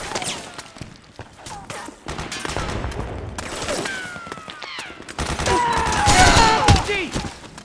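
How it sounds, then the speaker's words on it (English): Gunfire in the stealth action game Metal Gear Solid 4 during a village battle: scattered shots crack near and far in irregular volleys, growing denser and louder toward the end, mixed with other battle noise. "Suppressing fire!"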